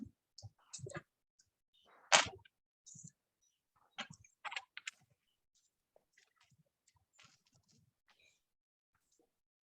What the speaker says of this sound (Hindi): पहले मैं कोड लिख देता हूँ।